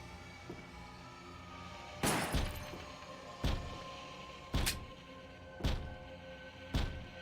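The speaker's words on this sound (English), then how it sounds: "Banging on the door." Heavy thuds of something banging on a door in the video game Resident Evil: The Umbrella Chronicles, five loud separate blows spaced roughly a second apart over a quiet, humming background.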